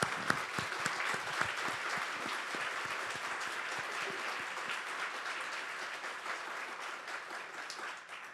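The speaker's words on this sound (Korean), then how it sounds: "박수 한번 쳐요. 鼓掌。" Church congregation applauding a visiting pastor from Africa during a Sunday worship service, steady dense clapping that fills the hall and carries on unbroken before tapering slightly at the end.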